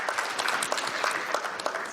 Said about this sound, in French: On l'applaudit également.